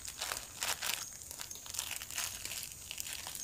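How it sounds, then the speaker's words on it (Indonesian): Thin plastic crinkles and rustles steadily as it is twisted and tied off in place of string, a close, busy crackle with brief louder bursts and no talking. "terus kita ikat menggunakan plastik ini karena kita nggak punya tali"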